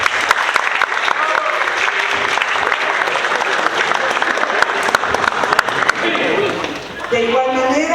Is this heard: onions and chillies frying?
no